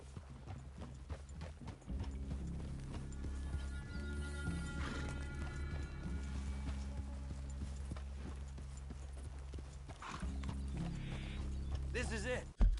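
Several horses clip-clop and snort in a Red Dead Redemption 2 game scene, hooves steady over a low droning music bed, with a brief whinny and faint voices.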